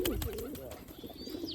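Pigeons coo close by in a steady low warbling call, with a faint higher chirp near the end and no talking.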